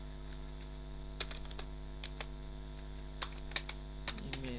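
Scattered keystrokes on a computer keyboard as a prompt is typed, a few taps at a time with gaps between, fairly faint and close over a steady electrical hum.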